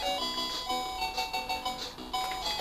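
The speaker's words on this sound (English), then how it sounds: "The music's on a terribly small loop." A short Commodore 64 soundtrack from the Back to the Future video game repeats on a tiny loop, a chiptune phrase with regular rhythmic pulses, played fairly quietly with no talking.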